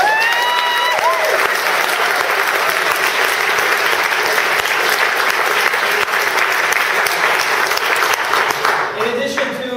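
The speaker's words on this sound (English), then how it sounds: "Come on, a round of applause for that." A tech conference audience bursts into loud, sustained applause for MySQL creator Monty Widenius, filling the hall throughout, with a brief voice heard near the start and again at the end.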